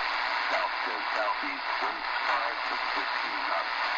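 An Eton Grundig G5 portable shortwave radio tuned to an upper sideband weather station signal gives a hissy, band-limited stream of garbled voice, steady and moderately loud throughout.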